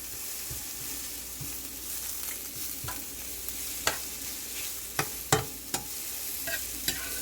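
Onions and mushrooms sizzle steadily in a stovetop pan, with a continuous hiss broken by occasional sharper pops and crackles of stirring, close and moderately loud, no voices.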